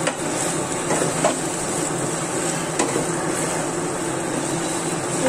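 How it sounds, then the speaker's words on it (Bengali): Rice fries in hot ghee in a home kitchen, giving a steady, close sizzle with a few soft stirring scrapes and no talk. "এটা ভালো করে ফ্রাই হবে চালটা।"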